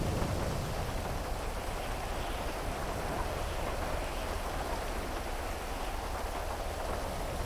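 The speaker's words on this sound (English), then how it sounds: "This rain is terrible." Steady, dense hiss of heavy rainfall in Grand Theft Auto V (FiveM roleplay) pours down continuously, with no voices and no letup.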